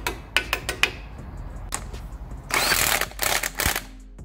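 Impact gun tightening wheel nuts on a 2018 Vauxhall Corsa after a front brake pad job, several quick clicks followed by a loud rattling burst and a few shorter bursts close by.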